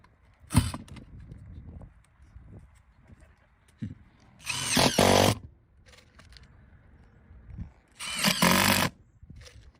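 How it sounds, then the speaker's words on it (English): A power drill drives screws down through a metal roof panel laid over an old panel, two sustained whirring bursts of about a second each with scattered clicks and handling knocks between them, fairly quiet and without talk. "Then place it on the old panel. Run your screw."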